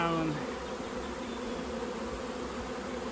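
A swarm of honey bees flying around and fanning at the entrance of an almost empty queenless hive, making a dense, steady buzzing drone that stays loud and close throughout, with a brief tonal sound at the very start.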